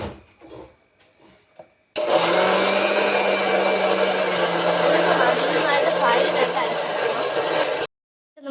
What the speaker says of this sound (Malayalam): അപ്പം ഞാൻ മിക്സി ഓൺ ചെയ്തു